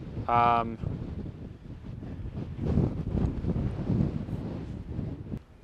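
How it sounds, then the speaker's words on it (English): Strong wind buffeting the microphone in rumbling gusts, with a brief high tone near the start. "This is so windy."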